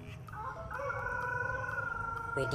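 An animated cartoon chicken gives a sustained, loud, tonal crow-like call that holds steady for about two seconds over a low background hum.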